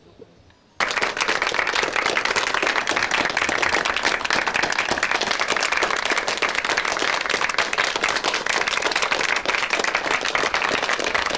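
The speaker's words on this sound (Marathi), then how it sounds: "टाळ्यांचा गजर होऊ दे" An audience at a health and diet talk bursts into loud, sustained clapping after a brief quiet start, dense and even applause filling the room for about ten seconds.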